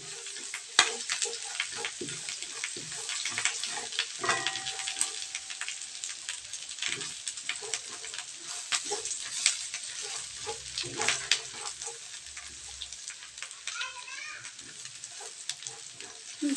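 Garlic frying in its own rendered fat in a pan for ginisang sitaw, a steady crackling sizzle with scattered pops and occasional utensil clinks, under intermittent talk.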